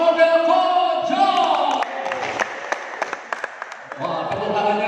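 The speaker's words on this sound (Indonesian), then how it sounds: "Mana tepuk tangannya meriah?" Audience applause at an Imlek (Lunar New Year) community gathering at Pos Bloc in Central Jakarta, steady clapping that dips midway to a few sharp scattered claps, then swells again, with a host's voice and crowd chatter running under it.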